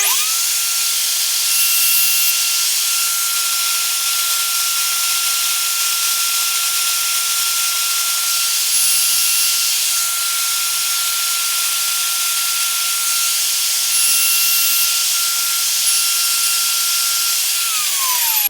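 WoodRat router cutting a blind dovetail socket in wood, a loud sustained high-pitched motor whine with steady tone and slight swells as the bit bites, running continuously before winding down at the end.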